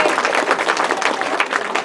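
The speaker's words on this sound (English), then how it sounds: "Please give them a round of applause as well." A crowd at a library launch celebration claps in a brief, loud burst of dense applause lasting under two seconds.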